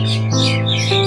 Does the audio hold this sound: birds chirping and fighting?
yes